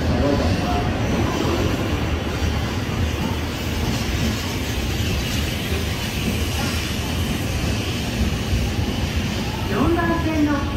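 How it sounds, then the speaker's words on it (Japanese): Shinkansen Nozomi 71 bound for Hiroshima arriving at Shin-Yokohama station, a loud steady rumble and rush of the train pulling in along the platform, with a brief squeal near the end and a voice audible under the noise. "13時7分発のぞみ71号広島行きの到着です"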